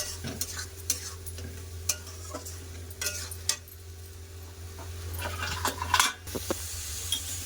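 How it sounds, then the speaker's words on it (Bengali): Ground spices fry in oil with a splash of water added, stirred in a pan for chana dal: a low continuous sizzle under intermittent scraping and clinking strokes of a utensil against the pan, close and moderately quiet. "একটু জল দিয়ে দিলাম দিয়ে ভালো করে খুব সুন্দর করে ঘষে নেবো কষে নেবো"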